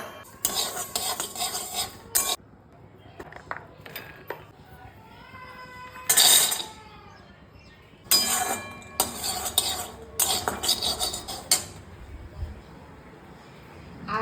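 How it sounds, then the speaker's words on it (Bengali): Sesame seeds dry-roasting in a pan, stirred in bursts of close, gritty scraping and metal clatter with quieter pauses between; a voice sounds briefly in the middle. "তিলটা ড্রাই রোস্ট করছি, মানে যেটাকে বলা হচ্ছে শুকনো খোলাই ভাজা।"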